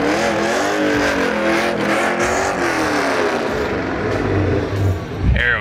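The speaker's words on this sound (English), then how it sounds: "That's how you light up the tires." A cheap sports car revs hard and spins its tyres in a sustained, loud roar of engine and wheelspin, with a brief knock and shift in tone near the end.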